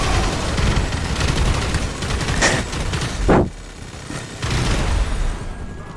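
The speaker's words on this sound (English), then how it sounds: "And I'm using the minigun right now," Rapid explosive minigun bursts in a low-gravity prison riot video game, a dense, loud continuous barrage of booming shots with a brief pause and a short sharp blast before firing resumes.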